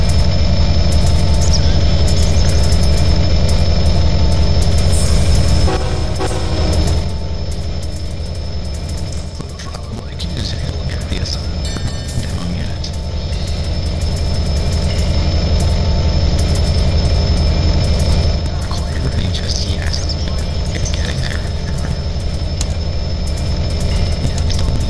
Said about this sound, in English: LRI A149 departing Rockford to Wolfram.